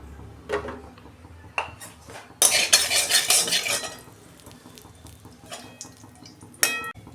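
Fried soybean chunks are tipped out of a metal pan in a short rattling, clattering rush, with scattered metallic clinks before and after.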